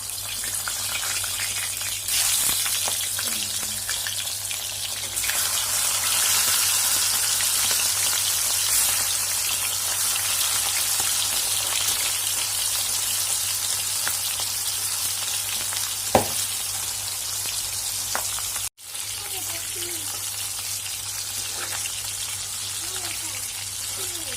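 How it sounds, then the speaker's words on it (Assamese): Fish fries in hot mustard oil in a kadai for an Assamese sour fish curry, a loud, dense and continuous sizzle with a few brief clinks and one short break in the sound. "কেৰাহীত মই মিঠাতেলটো দি ল'লোঁ। তেলখিনি গৰম হোৱাত এতিয়া মই মাছটো দি লৈছোঁ।"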